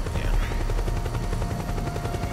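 A helicopter's rotor thrums steadily and loudly throughout a Metal Gear Solid 4 game scene, with faint gunfire-like crackles mixed in.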